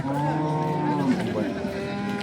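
A cow moos in one long, loud, drawn-out call that wavers in pitch, close by and with no other sounds over it.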